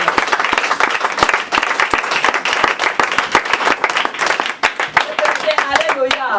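A church congregation applauds in a sustained burst of dense, fast clapping close by, mixed with voices and shouts, and a few louder claps near the end.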